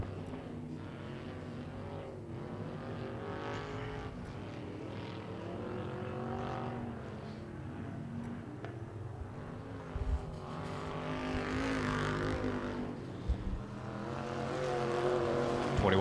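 Factory stock race cars roar around the oval at Tulsa Speedway, a steady loud engine drone swelling and fading as the pack passes, continuous through the whole stretch without talk.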